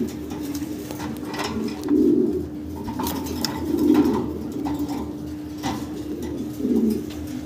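Fancy pigeons coo in three soft, low rounded bursts at a breeder's loft, with faint clinks and background murmur between the calls.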